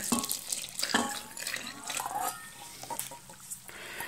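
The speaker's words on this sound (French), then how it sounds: "Je mets tout mon lait." Milk poured into a mixing bowl with crumbled yeast while preparing a dough, a close, steady liquid splashing and trickling with brief louder pulses, no voices.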